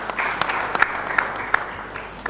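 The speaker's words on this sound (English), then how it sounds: "let's give him a round of applause" Conference audience applauding at a panel session, a steady wash of clapping with sharper individual claps standing out, moderately loud throughout.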